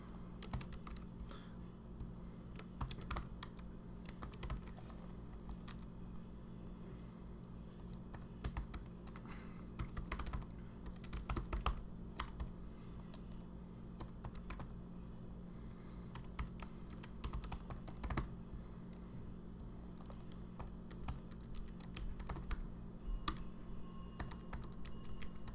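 Someone types steadily on a computer keyboard, with quiet, irregular clicks and key taps under a low background hum. No one speaks.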